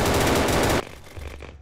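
Battlefield 2042 team deathmatch gunfire: a rapid, loud automatic burst of rounds fired in quick succession that cuts off sharply halfway, leaving quieter game ambience behind.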